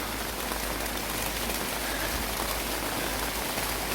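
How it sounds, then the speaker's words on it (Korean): Heavy rain falls steadily during a nationwide autumn downpour, a dense, constant roar of drops hitting surfaces that fills the whole stretch evenly, loud and close, with no voices over it. "오늘 전국적으로 비가 오는데 남쪽 지방이 지금 비가 더 많이 내리고 있습니다"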